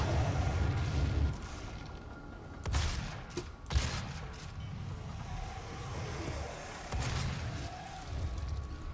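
Gunfire and enemy attacks in the DOOM video game, including shotgun blasts and an imp's charged shot, come as booming reports over a continuous low rumble, with several loud hits spaced a second or two apart.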